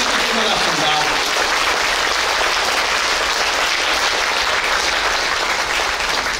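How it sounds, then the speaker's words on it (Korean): Outdoor audience at a live yanggeum and traditional music performance in a Seoul open-air plaza claps loudly and continuously, a dense, even wash of applause throughout. "그 감독님들을 위해서 여러분들께서 큰 박수 한번 주시면"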